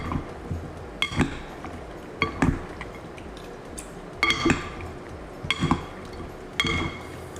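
A spoon stirs bottle gourd raita with yogurt in a bowl, giving a series of sharp clinks and taps against the bowl, spaced about a second apart, with a soft wet mixing texture between them.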